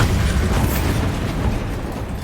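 A Bombarda blasting spell goes off in Hogwarts Legacy, a dense roaring explosion that fills the whole moment and stays loud, slowly easing off.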